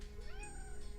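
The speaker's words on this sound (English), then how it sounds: "Cat." A cat meows over steady background noise, a short rising-and-falling cry lasting about a second and sounding fairly close.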